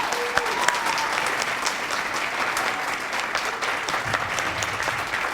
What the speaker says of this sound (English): give all the candidates a big round of applause